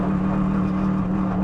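Mercedes-AMG GT3 race car on the Nordschleife, engine droning steadily at close range with a strong low hum; the downshift blips are not distinct, just a continuous loud engine note throughout.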